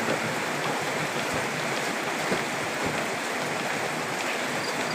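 Steady rain falls on a rural Thai rice-field landscape, with young rice seedlings and flooding paddies, producing a dense, continuous broadband hiss with no breaks, fairly loud and unaccompanied by voices.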